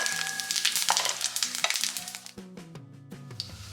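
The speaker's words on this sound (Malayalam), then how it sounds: "ജീരകം ഇട്ട് കൊടുക്കാം" Cumin seeds sizzle steadily in hot oil in which mustard seeds have just popped, a kitchen fry for a brinjal stir-fry, with a tonal musical backing running underneath.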